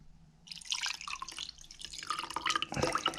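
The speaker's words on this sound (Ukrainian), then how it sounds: "Розбавимо трошки туди, додаємо водички звичайної." Plain water pours and trickles into a mayonnaise sauce for stewed pike, a close, splashy liquid sound that starts suddenly and continues with bubbling drips to the end.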